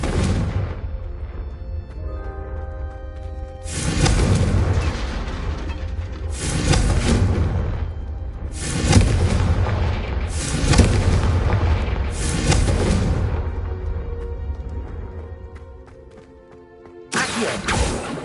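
Confringo spell blasts in Hogwarts Legacy, a series of heavy booming explosions in several long bursts separated by short gaps, loud and close with a final blast after a brief lull.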